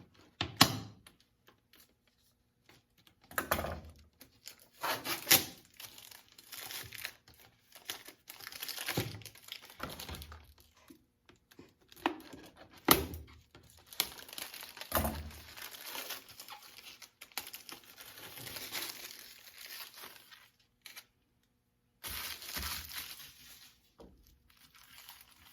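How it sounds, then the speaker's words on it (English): Plastic label being peeled and torn off a bottle being prepared for a water rocket, heard as bursts of crinkling, crackling and scraping separated by short quiet pauses, close and fairly loud, with no talking. "First of all, we're going to get this label off."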